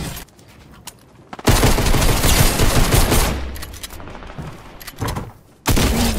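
Loud bursts of automatic gunfire from a Fortnite match, a long sustained volley in the middle and shorter bursts near the end, with quieter gaps between.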